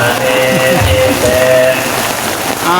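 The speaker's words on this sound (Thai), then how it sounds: "มากับบรรยากาศสายฝนพี่น้องเอ้ย" Heavy rain pours down during a monk alms-giving ceremony at the start of Buddhist Lent in Laos, a loud, dense, steady hiss of drops drumming on surfaces that runs throughout.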